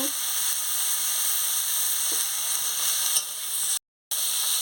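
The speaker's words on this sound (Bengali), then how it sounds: "দেখুন কীভাবে আমি নাড়াচ্ছি এই" Pumpkin leaf paste fries in oil, giving a steady, even sizzle and hiss, with a few soft stirring scrapes and a brief break near the end.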